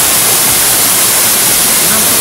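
A large waterfall roughly 20 to 50 metres high, a steady, loud broadband roar of rushing, crashing water that fills the whole clip without a break, with no clear voice above it.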